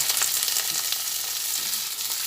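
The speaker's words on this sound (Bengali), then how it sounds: "পেঁয়াজগুলো ভাজা হচ্ছে" Steady crackling sizzle of onions frying in a pan, dense and continuous throughout, with no voices.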